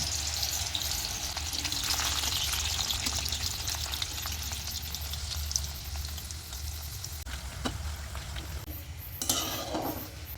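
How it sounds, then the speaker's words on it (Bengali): Raw banana papad frying in hot oil, a steady close crackling sizzle with faint stirring scrapes throughout and no voices. "পাঁপড়গুলা ভেজে নেব"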